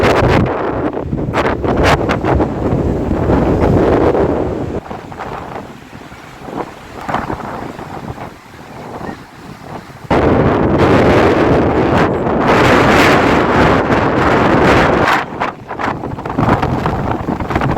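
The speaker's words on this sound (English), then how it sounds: "you can hear the sound of the wind by yourself" Strong, steady wind roars and buffets a microphone outdoors at Logan Pass in Glacier National Park, a continuous loud rush with gusts swelling and easing, no voices.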